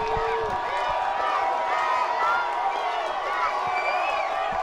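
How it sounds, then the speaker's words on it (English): A football stadium crowd at a Whitworth vs. George Fox game roars on a 4th down play, a broad sustained wall of cheering and whistles from far off, with a commentator talking over it. "And listen to this crowd"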